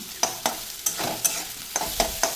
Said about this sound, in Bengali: আবারও বেশ খানিক্ষণ মতো নাড়াচাড়া করে নিচ্ছি এখনও কিন্তু পুরোপুরি ভাজা হয়নি